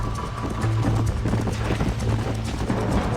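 Hoofbeats of a horse in the video game Red Dead Redemption, a steady rhythmic clip-clop running continuously and fairly loud, with a low game soundtrack and faint voices mixed beneath.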